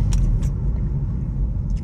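Hyundai Veloster N idling or rolling slowly, a close, steady low rumble with faint clinking on top, no talk.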